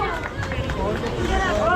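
Audience clapping for a child receiving a certificate and medal at a neighbourhood 15 August Independence Day programme in Yamuna Vihar, a steady dense patter of many hands close by, with a voice faintly mixed in.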